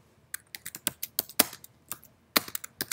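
Rapid keystrokes on a computer keyboard as a process name is entered, an irregular run of sharp clicks with brief pauses, close and clear with no talking.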